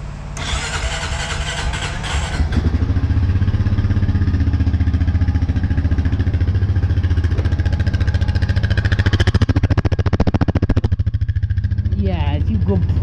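A 2013 Honda Rancher 420 ATV engine cranks and catches, then settles into a steady, loud close idle with a deep pulsing rumble, and a voice speaks briefly near the end.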